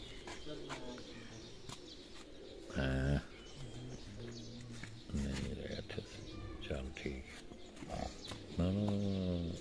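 A handled pigeon coos in several short bursts at close range while someone talks throughout.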